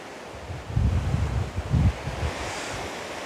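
Cool wind buffets the microphone at a riverside bridge, with low rumbling gusts that swell twice and then settle into a steady whoosh, and no voices.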